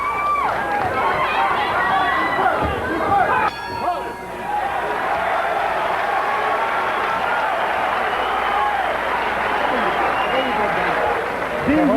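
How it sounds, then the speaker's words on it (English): Boxing crowd at a fight in Palm Springs, a continuous murmur of spectators with scattered cheers and clapping, while a commentator's voice runs over the top almost the whole time. "an appreciative crowd here in Palm Springs"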